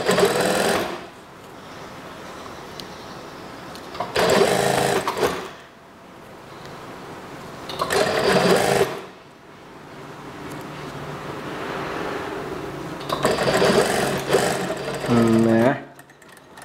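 Short bursts of a sewing machine stitching along a skirt's elastic waistband strap, several separate runs of close, loud whirring broken by quieter pauses with faint handling noise.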